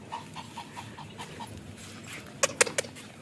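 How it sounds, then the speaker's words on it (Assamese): Small Shih Tzu puppy at a dog farm panting rapidly in a soft, even rhythm, followed by a few sharp close yips, faint overall. "এইটো চিটজু বুলি কয়"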